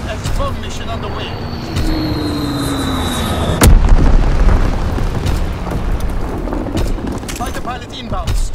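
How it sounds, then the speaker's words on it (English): Aircraft bombing run in a multiplayer war video game: a jet sweeps past with a falling whine, then a heavy bomb blast booms and rumbles into a long dusty roar of debris and distant gunfire. "Flight 6 bomb mission underway."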